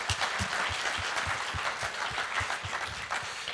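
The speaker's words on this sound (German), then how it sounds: "Ich gehe von aus, dass der Applaus für alle galt, nicht nur fürs Musikteam" Applause from a church congregation during a Sunday service, a steady wash of many hands clapping at moderate distance, filling the room evenly without pause for the whole stretch.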